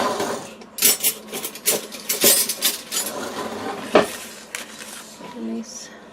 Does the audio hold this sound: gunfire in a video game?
no